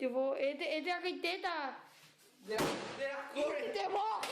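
A door slams shut once with a sharp, hard bang midway through, surrounded by people talking before and after.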